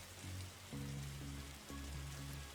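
Steady rain hisses softly across a quiet scene in the video game The Darkside Detective, with a low musical tone underneath that changes pitch in several steps.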